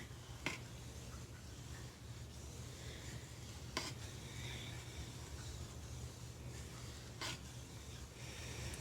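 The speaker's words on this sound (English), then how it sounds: "I'm going to give it one last stir." Chicken and parmesan rice stirred in a pan as it returns to a boil, a steady bubbling wash with a few sharp spoon clicks against the pan.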